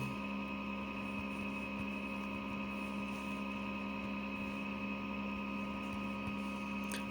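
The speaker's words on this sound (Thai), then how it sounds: "อาจจะได้ยินเสียงพัดลมแอร์นะครับ ต้องขออภัย" An air conditioner fan drones in a room as a constant, low, even hum with steady tonal whine, no variation across the whole stretch and no voices.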